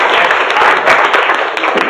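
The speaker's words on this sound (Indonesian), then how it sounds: "Oke, tepuk tangan ya" A room of seminar participants applauds steadily for two seconds, dense and close clapping at an even level with no speech on top.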